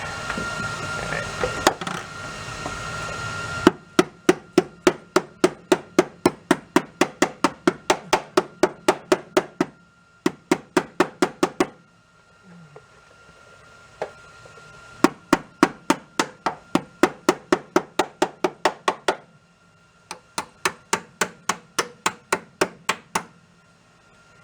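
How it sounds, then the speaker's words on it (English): Hammer striking the metal frame of a 1972 VW Super Beetle in repair, in fast even bursts of sharp ringing blows separated by short pauses, loud and close with no talk. "we're gonna come back and we're gonna hammer along that line"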